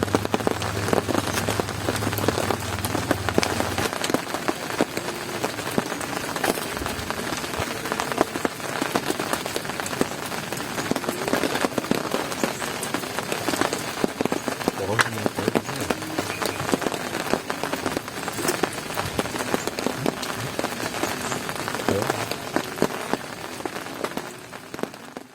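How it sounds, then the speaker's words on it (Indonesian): Heavy rain pours steadily on a campsite during a rainy camping trip, a dense, constant patter on surfaces that lasts throughout with no voices. "Hujannya tak berhenti."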